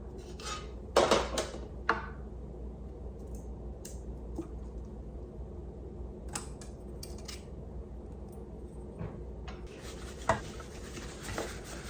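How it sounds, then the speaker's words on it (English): Parts from a KitchenAid Pro 600 6-quart stand mixer being set down on a small metal sheet pan, making scattered metallic clinks and clatters with quiet handling noise between them. "I'm going to place all the pieces on a small sheet pan so that I don't lose them"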